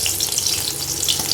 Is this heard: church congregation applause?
no